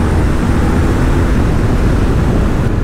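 BMW R1250R motorcycle engine while riding, a steady loud roar with heavy wind rush held at constant level throughout, no talking.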